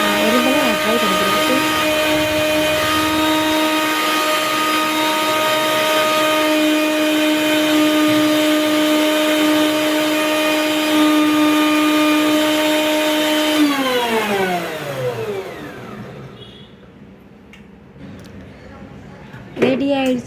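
A kitchen blender grinds curry leaves with water for juice, a loud steady high whine for about fourteen seconds that then winds down in falling pitch to near silence, with a brief clatter at the end.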